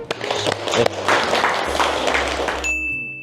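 Studio audience claps for a few seconds as a Korean chef opens a cooking show making Swiss-style beef cream stew, a dense burst of hand claps that ends with a bright bell-like ding.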